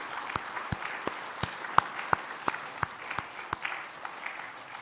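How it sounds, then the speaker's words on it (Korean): Congregation in a church during a Sunday worship service claps at a moderate distance, with sharp, evenly spaced claps standing out over a soft wash of scattered hand claps throughout. "뜨겁게 박수로 한번 환영해 주시고."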